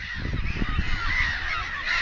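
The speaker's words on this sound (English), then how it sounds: "Oh, look at the bird." Geese honk repeatedly near the water at a beach, a steady chorus of nasal calls at moderate distance over low wind and ambient noise.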